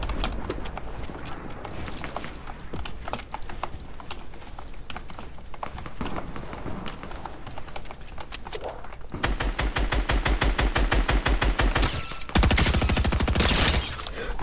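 SMG fire in Fortnite, rapid automatic bursts that grow louder and denser in the second half, with quieter scattered shots and game noise earlier.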